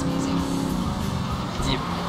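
Car driving through traffic in Grand Theft Auto 3, a steady engine drone with faint tire noise held at even loudness throughout, with a voice talking over it.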